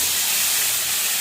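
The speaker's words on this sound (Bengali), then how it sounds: "সবজিগুলো ঢেলে দিলাম" Vegetables poured into hot oil tempered with cumin seeds after frying fish, a loud, steady hiss of sizzling, close and continuous with no voices.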